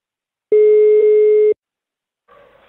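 A telephone busy tone after a call is hung up, a steady loud electronic beep held for about a second with a slight break, followed by silence and then faint talk.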